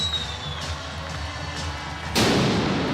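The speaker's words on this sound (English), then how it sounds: "There's those cannons for you." A victory cannon booms once at an Arizona Rattlers indoor football game, a sudden loud blast that cuts through crowd noise and arena echo and leaves a roaring wash behind it.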